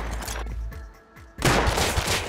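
Rapid gunfire crackles in a Rust firefight, a dense fusillade of loud close shots with a brief lull before a heavier burst of overlapping rounds.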